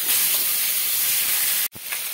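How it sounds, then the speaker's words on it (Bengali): Katla fish pieces fry in hot oil in a pan, giving a steady, loud broadband sizzle and hiss that holds evenly, then cuts out abruptly for a moment before resuming more faintly. "2-3 মিনিট লেগেছে মাছগুলো ভাজতে"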